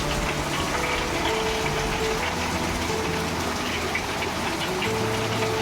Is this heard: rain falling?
yes